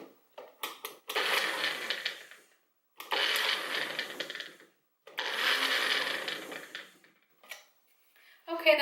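A Magic Bullet blender strains on garlic in three loud grinding bursts of about two seconds each, with rattling and knocking between them.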